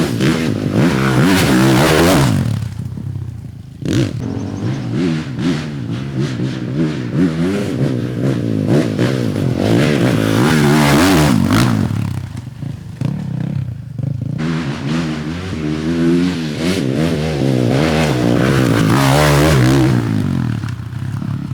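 A motorcycle engine revving and accelerating under throttle, loud and close, with rising and falling pitch sweeps across several pulls and a short dip in between.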